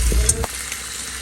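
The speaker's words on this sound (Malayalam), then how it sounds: "ഇനി നമുക്ക് അതിലോട്ട് നമ്മുടെ വേവിച്ച ബീഫ് ഇട്ട് കൊടുക്കാം" Cooked beef hits a hot pan for a Kerala-style beef roast with a quick thud and burst of sizzle, which settles into a steady close frying hiss.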